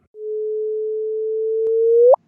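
Sped-up audio of the LIGO gravitational wave detection: a single pure tone holds steady for about two seconds, then sweeps sharply upward into a brief chirp and cuts off, clean and alone.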